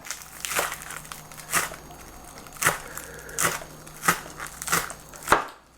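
A knife chops scallion on a cutting board for crab cakes, giving about seven crisp, evenly spaced thuds with a brief crunch on each cut and a quiet steady background between them.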